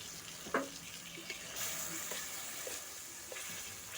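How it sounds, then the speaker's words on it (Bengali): A spice paste with peas and gram flour fries gently over a low flame, giving a soft, even sizzle with a few faint clinks and scrapes, quiet and with no talk. "মশলাটাকে দেখুন এবার উনানের জালটা হালকা রেখেই খুব সুন্দর করে কষিয়ে নেব"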